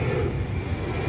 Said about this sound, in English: oh my God, the planes.